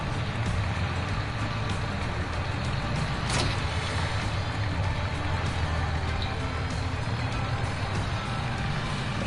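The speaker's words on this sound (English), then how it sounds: "The sound of this truck is just so ridiculous." A truck engine in Farming Simulator 2019 drones steadily and loudly at close range, with a rough, unchanging rumble throughout and a brief higher whine partway through.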